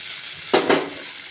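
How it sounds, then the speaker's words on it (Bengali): Water poured into hot masala in a frying pan, giving two quick bursts of loud sizzling that trail off into a softer hiss. "এরপর আমি দিয়ে দেবো পরিমাণ মতো জল।"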